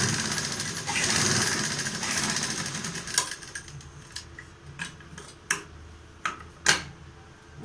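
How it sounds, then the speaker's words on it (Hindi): A sewing machine stitches along the sides of a fabric mask, a quick rattling hum at first, then giving way to a series of separate sharp clicks and taps spaced irregularly in a quiet room. "ये दोनों साइड हम इसकी सिलाई लगाएंगे।"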